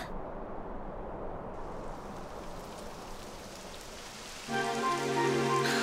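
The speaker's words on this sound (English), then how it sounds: "It would have to go and start raining, wouldn't it?" Steady rain falls in the video game Dragon Quest XI S, a dense continuous hiss of drops on surfaces that plays alone before a sustained musical tone joins near the end.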